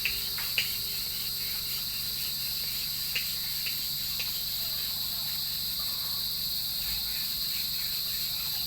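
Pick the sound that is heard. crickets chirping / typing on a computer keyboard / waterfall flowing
crickets chirping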